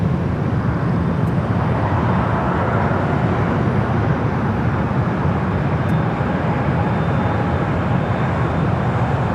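An airliner taking off from runway 24 left at LAX produces a loud, continuous broadband jet roar that holds steady throughout, dense and rumbling with no voices.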